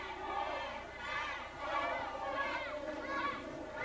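Arena crowd at an NWA Wildside pro wrestling show cheering in swelling waves, a dense roar of many voices rising and falling loudly throughout.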